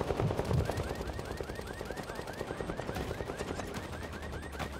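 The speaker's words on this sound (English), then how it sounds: "There's shots going off back there." Rapid gunfire in Vampire: The Masquerade - Bloodhunt, a steady stream of distant, fairly faint shots in quick rhythmic succession.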